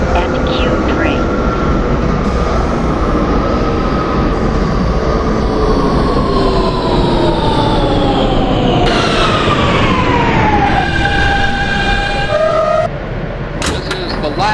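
An R160 New York City subway train on the N line, Astoria to Coney Island express, rumbling loudly with rising and falling motor whine, then braking to a stop with squealing tones near the end.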